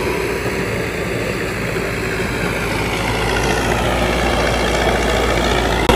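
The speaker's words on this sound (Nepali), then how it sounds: "ट्र्याक्टरले माथिबाट अझै पनि मिक्सिटीहरू ल्याइ नै राखेको छ" A tractor engine idles and runs steadily while hauling concrete mix during road construction, a continuous low rumble heard close by with no talk.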